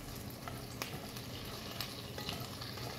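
Short ribs browning in a pan over medium heat, giving a steady, even sizzle and crackle with occasional small pops, faint and continuous, no voices.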